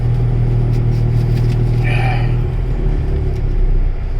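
A hot truck diesel engine idling slightly high as it settles toward idle speed, a steady low rumbling drone with an even, continuous hum that stays close and loud throughout.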